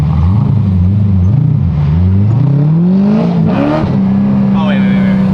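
A Chevrolet Corvette engine revving in first gear, its pitch climbing and falling in loud, close surges before holding a steady high drone, with people talking over it.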